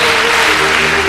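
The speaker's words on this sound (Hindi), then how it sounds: "तालियां बज सकती हैं बरकत की" Studio audience applause on a Ramadan quiz show broadcast on Hum TV: a brief, loud, dense burst of clapping that fills the whole moment with no speech.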